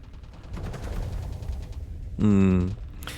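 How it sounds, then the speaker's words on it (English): A rapid burst of electronic zapping shots from a sci-fi weapon in a space video game, loud and buzzing, follows a stretch of excited talking, with a second short burst at the end. "the reality disruptor is shooting"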